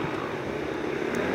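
A propeller airplane engine drones steadily at a distance during a race start, a low continuous hum with no voices over it.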